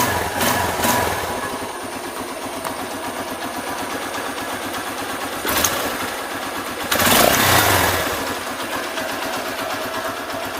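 A Hero Honda Karizma R motorcycle engine runs at a steady idle after carburetor repair, with a continuous close mechanical throb and two brief rises in revs partway through.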